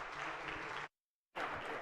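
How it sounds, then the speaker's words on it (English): Applause in the Senate chamber during a floor session, a steady wash of clapping that cuts out for about half a second and then resumes just as strongly. "If you could just give him a round of applause"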